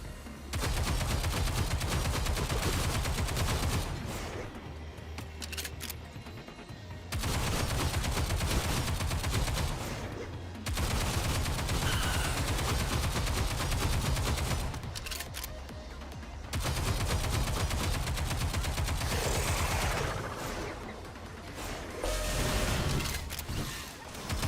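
Gunfire in the video game Stellar Blade blazes in long, loud automatic bursts of several seconds each, separated by brief lulls, with no talking over it.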